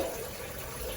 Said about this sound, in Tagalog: Kumukuha ako ng tubig.